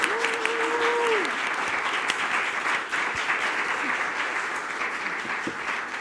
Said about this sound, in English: A round of applause for all 4 new ambassadors